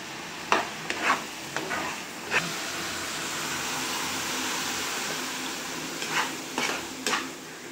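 Sorrel leaves (chukakku) cook in a pot on high flame, a continuous bubbling, sizzling hiss punctuated by several sharp stirring scrapes and clinks of a utensil against the pot.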